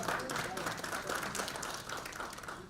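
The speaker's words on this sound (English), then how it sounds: "Let's welcome him with a round of applause." An audience at a national conference session on election early warning applauds to welcome a panelist, a steady wash of clapping from a room, with a voice speaking over it.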